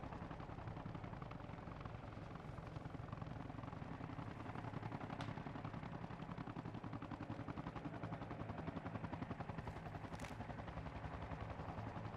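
Helicopter in a military simulation game, a steady rumbling rotor thump running unbroken for the whole stretch, fairly loud and close, with no one talking over it.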